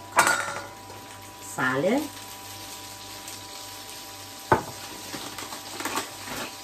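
Cherry tomatoes are dropped into a pan of sautéed garlic for a pasta sauce, giving a brief burst of clattering and sizzling with some pan clinks and faint kitchen noise.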